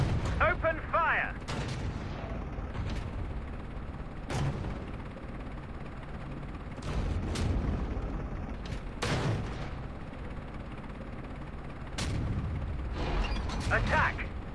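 Heavy tank cannon shots in a tank combat video game boom out repeatedly at irregular intervals, each a loud broadband blast over a droning engine rumble and mechanical clatter, with brief voice chatter in between.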